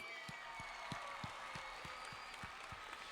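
Faint applause from a crowd at the LA Forum during a Be Strong Tour event, with a steady clap-like rhythm of regular beats under a soft wash of clapping.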